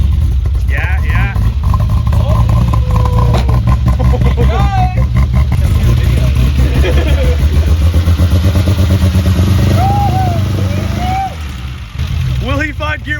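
BMW E28 535i engine revving hard while the car is driven, a loud, rough, continuous growl with throttle swells, heard close up under excited overlapping voices throughout.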